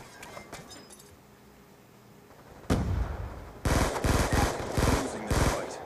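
Light machine gun fire in Black Ops 2 rips out in loud, close bursts, starting as a sharp blast midway then settling into several rapid stuttering volleys with short gaps, over quieter game noise and faint earlier clinks.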